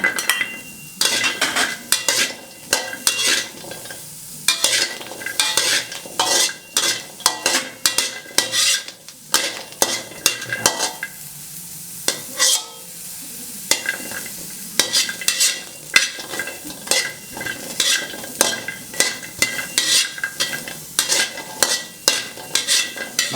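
Shallots and garlic dry-roasting in a pan for a fermented fish chili dip, with repeated scraping and stirring strokes of a utensil against the pan over a light sizzle, fairly close and rhythmic throughout.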